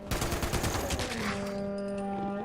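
Automatic fire from a gun in Fallout 76, a rapid burst of shots for about a second that cuts off, leaving a ringing electronic tone fading out.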